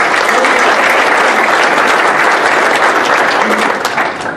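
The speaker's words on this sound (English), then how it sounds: "Let's give him a round of applause." Sustained applause from an audience at a basketball writers' award dinner, loud and dense, holding steady before tapering slightly at the end.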